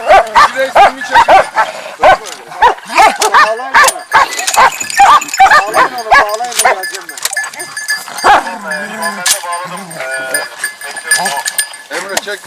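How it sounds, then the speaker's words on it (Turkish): Several dogs barking and lunging at each other outdoors during a hunting and nature outing in Kırklareli, a rapid burst of loud overlapping barks, yelps and snarls close by, with people talking now and then. "Köpekler birbirine dalıp ayıralım mı yalnız?"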